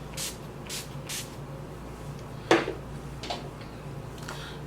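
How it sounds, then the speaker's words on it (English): Quick short bursts of LA Girl Pro Setting Spray misted onto a face, several soft hisses in a row, with a faint click partway through. "So I'm gonna take the LA Girl Pro Setting Spray."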